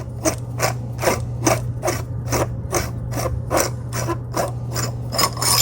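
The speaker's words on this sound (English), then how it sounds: "to get to your chassis, come over here, unscrew your handle" Handle of a brass-chassis Neopixel lightsaber being unscrewed, giving a steady run of about a dozen evenly spaced rasping, ratchet-like metal clicks up close over a low constant hum.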